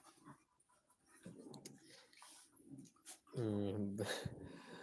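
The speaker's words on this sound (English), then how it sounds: "My dogs are going crazy in the background. They are fighting." Dogs snarling, whimpering and growling at each other in a scuffle, close and agitated, ending in a loud drawn-out yelp.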